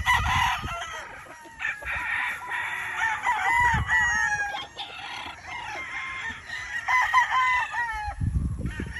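Fighting roosters crow repeatedly, several overlapping calls from nearby birds with occasional clucks between them, loud and clear with no talk over them.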